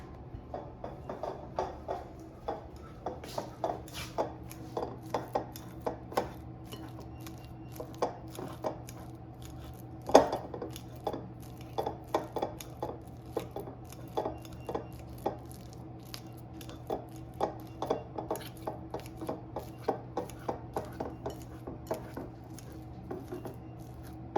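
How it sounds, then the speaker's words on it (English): A fork mashes ripe, sweet bananas for almond-flour banana bread, making soft, squishy taps against a bowl in a steady, uneven rhythm that carries on for over twenty seconds, close and fairly quiet. "And I will mash it with a fork"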